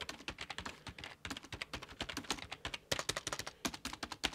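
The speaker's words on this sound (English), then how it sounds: "So let's start off with the traditional keyboard. So I'm going to just write a sentence." A sentence is typed on a traditional office keyboard, giving a quick, uneven run of close, crisp key clacks with small pauses between words.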